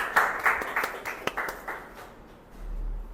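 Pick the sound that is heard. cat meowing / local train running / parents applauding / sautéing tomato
parents applauding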